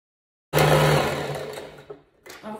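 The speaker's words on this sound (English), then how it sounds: "you're going to put it under the presser foot and sew." A sewing machine stitches tulle for tutu socks in one close, steady whirring run that slows and stops, then starts again briefly.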